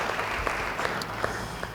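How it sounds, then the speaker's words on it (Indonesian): Church congregation clapping together, a steady dense patter of many hands at moderate level with a few sharper claps standing out, no voices. "Beri tepuk tangan bagi dia."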